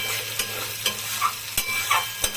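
Spice paste for a prawn and potato curry stirred and frying in oil, with a steady close sizzle and several soft scraping strokes of a spoon against the pan, no voices.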